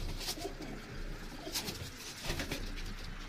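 A female pigeon in a breeding loft coos softly amid steady background noise, with a few brief bird calls rising over the low hum.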